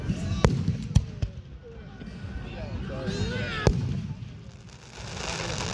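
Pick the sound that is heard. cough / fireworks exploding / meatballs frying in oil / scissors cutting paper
fireworks exploding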